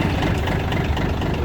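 A used Japanese Yanmar AF22 mini tractor engine runs at a steady idle just after starting, a continuous low diesel rumble close by with no voices.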